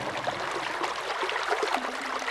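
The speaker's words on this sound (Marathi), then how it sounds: "अगदी आजही तब्बल 4 फूट उंचीचा हा खळाळता प्रवाह" Water rushes steadily through the Peshwa-era underground aqueduct at Shaniwarwada in Pune, a continuous gurgling, burbling flow heard up close with no voices.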